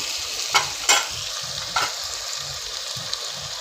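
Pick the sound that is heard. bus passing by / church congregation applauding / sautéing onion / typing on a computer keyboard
sautéing onion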